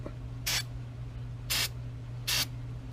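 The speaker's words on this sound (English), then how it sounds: "when the motor's running, you spray everything" Aerosol cleaner sprayed onto the vacuum lines of a running truck engine gives three short, loud hissing bursts about a second apart. A steady low engine hum runs underneath.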